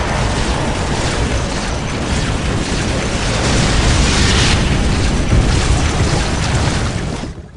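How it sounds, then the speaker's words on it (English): In the Warhammer 40K Dawn of War Dark Crusade battle, heavy weapons fire and explosions merge into a loud, dense, continuous roar of booms and mechanical clatter for several seconds before cutting off abruptly. "Taking heavy weapons fire."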